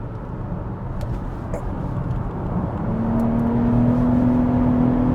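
A Toyota Camry TRD V6 sedan runs fast down a straight, a steady loud engine drone and road roar that swells, with a rising engine tone emerging near the end.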